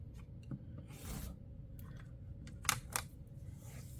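A rotary cutter or blade slices through layered quilting fabric for a disappearing-block pattern, giving soft raspy scraping strokes with a couple of sharper clicks near the end, close and fairly quiet.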